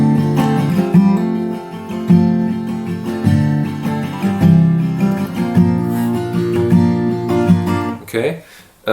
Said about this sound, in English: you can also add in those hammer-ons